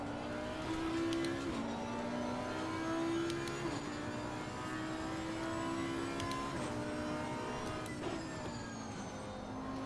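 Race car engine in the racing game Assetto Corsa Competizione, revving up through the gears with repeated upshifts, a steady high-pitched whine rising and dropping in a regular cycle, no talking.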